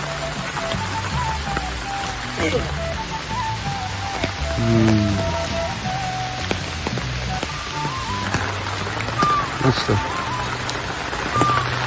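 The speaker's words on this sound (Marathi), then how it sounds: "आता पाऊस आला." Steady rain patters on surfaces in Konkan, with scattered drips and a person speaking briefly over it.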